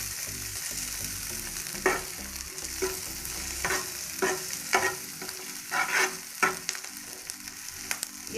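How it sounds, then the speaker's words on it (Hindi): Garlic fries gently in oil over a low flame for vada pav chutney, with a quiet continuous sizzle. A spoon scrapes and taps the pan in a loose rhythm of distinct strokes. "उसमें हम अपना लहसुन को फ्राई करेंगे"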